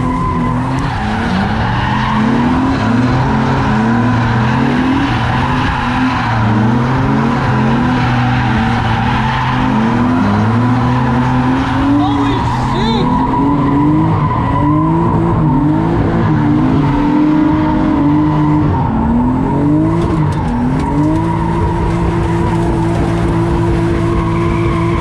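Drift car at a drift park skidding in long continuous slides, tires squealing with wavering pitch over a steady loud engine roar throughout.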